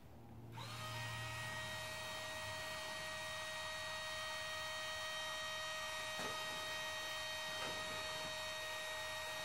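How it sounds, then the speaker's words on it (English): A small electric motor inside a MagnetoSpeed Riflekühl barrel cooler starts up and runs steadily with a thin, high-pitched whine over a constant hum, faint and continuous, with a couple of light clicks and no speech. "There's a little motor inside here, and that motor is going to make some noise."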